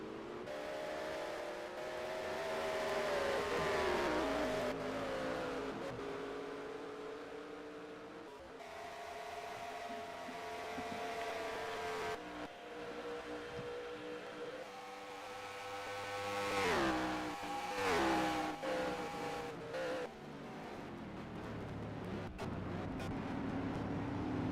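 Race car engines screaming down Mount Panorama's long fast hill at Bathurst during a rallycross race in a racing game, a loud sustained whine with pitch shifts and gear changes as cars pass close by.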